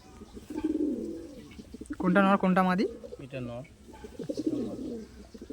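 Tournament Madrasi pigeons coo close by in soft, throaty bursts while someone talks in Bengali over and between the calls.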